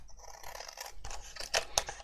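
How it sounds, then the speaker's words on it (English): Scissors cut paper for an A5 ring binder, a few quiet close snips and rustles with two sharp clicks near the end. "Then I'm just going to cut this out."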